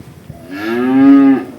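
A large six-tooth black cow, said to weigh over 500 kg, lets out one loud, close, drawn-out moo that swells and fades over about a second.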